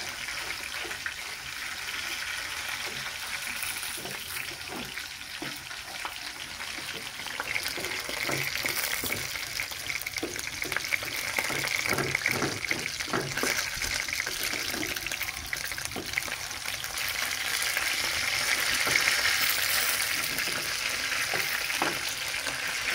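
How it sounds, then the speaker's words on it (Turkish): Minced meat sizzling and crackling as it browns in a little fat in a pan, a steady, moderately loud frying hiss with scattered pops that builds slightly over time, with no talking. "Kıymamı şöyle güzelce kavuracağım."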